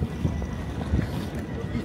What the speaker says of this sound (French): Je pense que c'est du vent que vous m'entendez pas du tout parce que j'ai pas mon micro